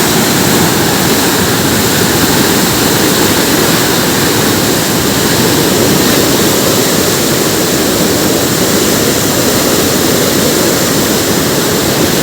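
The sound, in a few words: fast-flowing river water rushing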